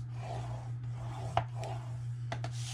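Scoring lines on box material makes soft, steady rasping strokes across the whole stretch, with a few sharp ticks and clicks along the way over a constant low electrical hum.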